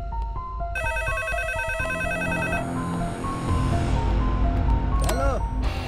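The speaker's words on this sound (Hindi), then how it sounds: "अरे कौन है जो बार बार फोन कर रहा है और बोल भी नहीं रहा है?" A telephone rings in a Hindi dubbed movie scene, with electronic tonal ringing bursts layered over music and effects; a brief swooping tone near the end.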